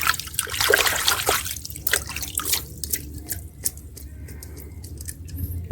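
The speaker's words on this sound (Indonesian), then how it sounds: "Kita cuci dulu ya teman-teman," Water trickles and drips over a toy vehicle as it is washed, with irregular close drips, small splashes and light clinks, starting busier then thinning to scattered drops, with no voices.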